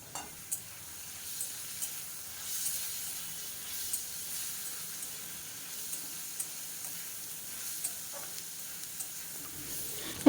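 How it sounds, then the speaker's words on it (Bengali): Vegetables with spices and half a teaspoon of turmeric sautéing in a pan over medium-low flame for fish curry with potato and eggplant, giving a soft steady sizzle with occasional stirring scrapes, fairly quiet and close. "এবার সব মশলাগুলোকে দিয়ে আমি ভালো করে কষিয়ে নিচ্ছি আরও 1 মিনিটের জন্য"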